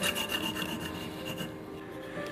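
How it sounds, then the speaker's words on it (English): A blade cuts off a wooden joint piece with a continuous scraping, rasping rub, moderately quiet and close, with faint rhythmic strokes and no talking. "Then I'll cut it off with a blade."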